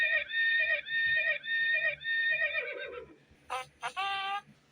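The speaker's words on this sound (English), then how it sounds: "Do you know what sound a horse makes?" A horse neighs in a series of repeated whinnies, then a falling neigh, then two louder shrill calls, with faint low sounds underneath.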